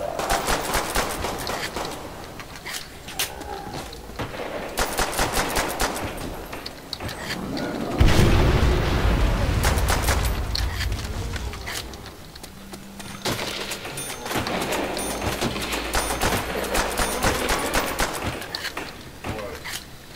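Gunfire from the Call of Duty: World at War Nazi Zombies video game comes in rapid bursts of repeated shots through most of the stretch, broken by louder explosive rumbles, with players talking over the action.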